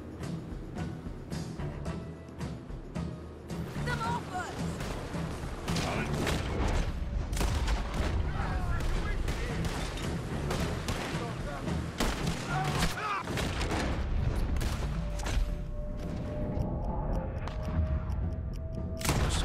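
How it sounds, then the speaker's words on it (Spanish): Gunfire in a slow-motion Red Dead Redemption 2 cutscene where a man is shot in the leg: heavy booming shots and rumbling impacts over a dense, continuous action soundscape, loud and close, with low voices underneath. "Ha entrado la cinemática cámara lenta del disparo en la pierna"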